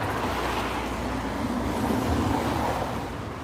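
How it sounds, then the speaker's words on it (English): Busy road traffic rolling past nearby, a steady broadband roar of passing cars that swells slightly and then eases toward the end, with no one speaking. "It's quite busy with the traffic here"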